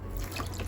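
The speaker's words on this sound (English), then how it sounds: "a couple splashes of oat milk" Oat milk poured into a blender with protein powder, a brief close liquid splash and trickle, steady and soft without talk.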